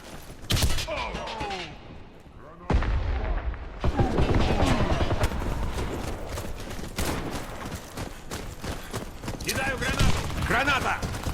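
Booming grenade blasts and bursts of gunfire in the video game Warface, loud and close with sharp cut-offs, crackling shots packed densely across the stretch under shouting voices.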